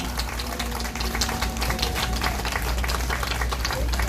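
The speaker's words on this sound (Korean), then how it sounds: "우리 박정희 대통령을 위해서 큰 박수를 보내주시기 바랍니다." Dense, steady applause from a press conference audience fills the whole stretch, a continuous wash of many hands clapping over a low background hum.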